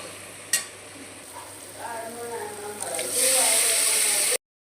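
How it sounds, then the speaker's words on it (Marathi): Spices hit hot oil in a pan while tempering sambar. A sharp clink is followed by a sizzle that builds into a loud, steady hiss, then cuts off abruptly. "मी सांबर याला फोडणी देते."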